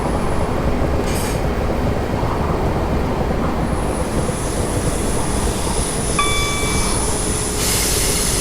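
A train in the video game Train Simulator 2018 rolls into Vauxhall station on the Hampton Court to London Waterloo route, a loud steady rumble of wheels on track with brief tonal squeals and a high whine near the end.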